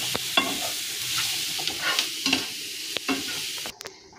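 Food being stirred and fried in a pan with a steady sizzle underneath repeated scraping and knocking strokes of a spoon, close up, with a brief pause near the end.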